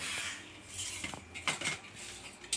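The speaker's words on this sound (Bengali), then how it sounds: "চিংড়ি মাছ একটু কেটে নিই" Prawns being cut with a knife in a home kitchen, with a few light metallic taps and scrapes of blade against a board or plate, soft and close, with no talking.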